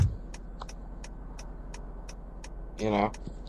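Regular turn-signal clicks in the Roblox game Greenville tick steadily, about three per second, over a low engine hum, with a brief honk-like tone near the end.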